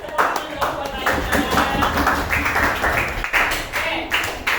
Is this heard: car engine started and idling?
no